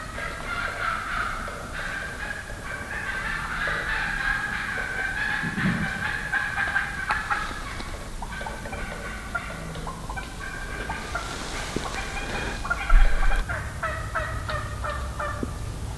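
Hen turkeys gobble and cluck in the woods, a busy chorus of calls at middle distance over a breezy outdoor background, with occasional louder bursts.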